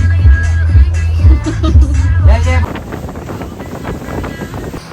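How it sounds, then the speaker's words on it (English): Wind buffets the microphone as a party boat moves over water off Kota Kinabalu, Borneo, with loud rushing gusts and voices talking at first before fading into steady wind and spray. "Oh, on the party boat now."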